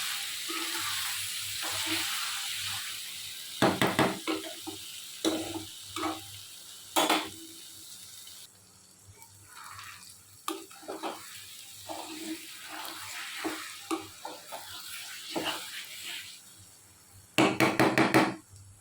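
Salted hilsa with potato and eggplant cooking in a pan, with green chilli and garlic just added: a soft sizzle under intermittent scraping stirs and clanks of a spoon against the pot, with a louder burst of clatter near the end.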